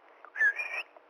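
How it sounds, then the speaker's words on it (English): A dog whistle is blown once on a trail to call dogs back, giving a short, fairly loud steady tone that holds for under half a second over faint outdoor background. "the only leash I really have is a whistle. that I blow, and it sounds something like this,"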